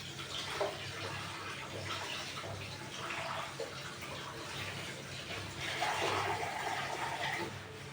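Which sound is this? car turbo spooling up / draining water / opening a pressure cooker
draining water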